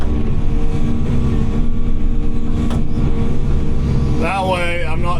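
A machine bucket's teeth rake light soil and brush into a pile while clearing a new food plot, with a loud, steady engine drone throughout and a wavering whine rising near the end.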